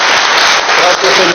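Church congregation applauding at a Christian water baptism service, loud continuous clapping close by with voices rising through it.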